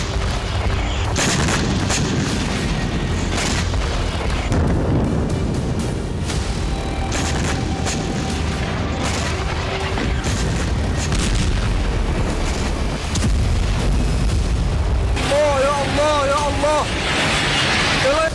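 Bombing explosions in Lebanon, heard as continuous heavy booms and rumbling blasts mixed with chaotic background noise, with voices present throughout and a siren-like wail near the end.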